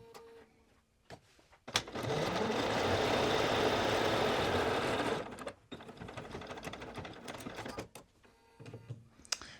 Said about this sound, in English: And now we're just gonna sew. And I am back stitching at the top and the bottom.